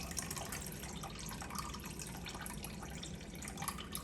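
Lemon juice pours steadily into a bowl in a continuous splashing trickle, close up, with no voices.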